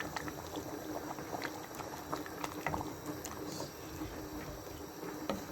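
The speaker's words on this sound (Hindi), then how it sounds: "अब इसमें मैं पानी डाल दूँगी।" Boiled water poured into a pot of karela, onion and lamb curry, giving a continuous bubbling, sizzling wash of liquid with small crackles, steady and close for several seconds.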